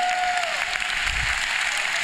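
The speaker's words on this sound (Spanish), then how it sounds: "Así le vas a dar un aplauso" A church congregation claps steadily during a worship service, producing a dense, even wash of applause with a faint high tone sliding away at the start.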